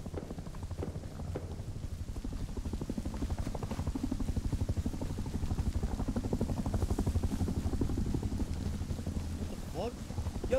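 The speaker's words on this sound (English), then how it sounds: "It was a chopper, bro." A helicopter in the video game Rust thuds overhead with a steady rapid rotor chop and engine drone, fairly loud and sustained throughout.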